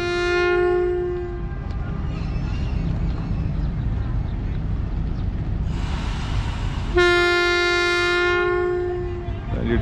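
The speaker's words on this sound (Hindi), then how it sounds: "ये डिपार्चर हॉर्न हो गया" A train sounds its departure horn at Shahin Abad Junction, a railway junction where branch lines merge: two loud, sustained horn blasts, one at the start and one later, with rumbling rail noise and a brief hiss between them.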